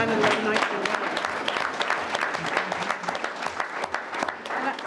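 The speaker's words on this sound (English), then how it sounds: "Is this where we clap?" Audience applause fills a college board of trustees meeting room, dense steady clapping throughout with some speech mixed in underneath.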